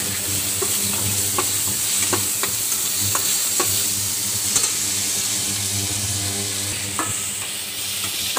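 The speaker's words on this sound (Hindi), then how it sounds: "अब देखिए हम यहाँ पर इसको भून लेंगे, धीरे धीरे धीरे भून रहा है।" Chopped tomatoes and Maggi noodles fry in a pan, a steady loud sizzle broken by regular scraping strokes of a spatula stirring them, close up with no talking.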